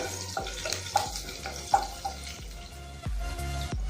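Chopped green chillies and spices are stirred in a pan, a spoon scraping and clinking against the metal in irregular strokes over a steady low background hum, with no talking.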